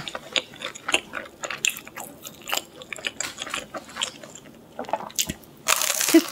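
Crisp, crackly crunching on the plain crust edge of a Papa John's pizza, close up in a run of small irregular bites and chews, with no talking.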